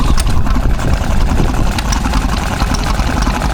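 Petter stationary oil engine idling at a country show while driving a water pump, a steady low, throbbing chug that runs continuously and fairly close, with a rough mechanical rattle on top.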